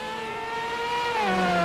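Stock car engines in a racing video game hold a sustained tonal whine, the pitch sliding and shifting as one car revs and passes, loud and continuous without speech.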